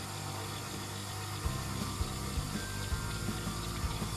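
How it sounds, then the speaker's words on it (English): A stand mixer whisks chilled cream for a no-egg tiramisu, giving a steady low motor whir with a watery swish and faint rhythmic clicks of the whisk. It runs close and continuous, with no voices. "Let's go do the whisking. Here I have added my cream. I'm using a stand mixer"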